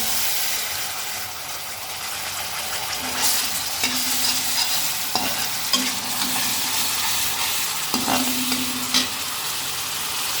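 Onion paste frying in a pan, a steady close sizzle broken by scraping stir strokes and a few short tonal squeaks from the utensil against the pan, with no talking.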